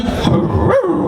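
A mimicry performer imitates dog barking with voiced, yelping bark-like calls over a live crowd, continuous and close for about a second.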